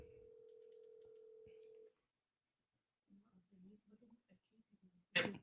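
A telephone line gives a steady dial tone for about two seconds, then after a pause a rapid run of short dialing tones is heard, ending in a brief loud burst, all fairly faint.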